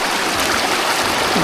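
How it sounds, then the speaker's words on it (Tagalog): River current rushing over rocks, a loud, continuous broadband wash of flowing water close by, steady throughout with no voices. "Ganda ng agos."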